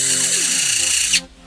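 Servo-driven retractable landing gear on a quadcopter moves, a loud high whirring motor whine with a falling tone that stops abruptly after about a second.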